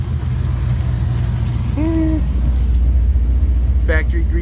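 A 1967 Ford Mustang heading out for a nighttime drive, its engine giving a steady low rumble throughout, with a brief rising tonal sound near the middle and a short burst near the end.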